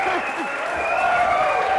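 Audience applause at a Startup Grind event, a brief wash of clapping heard under a voice that speaks over it, fairly loud and steady for under two seconds.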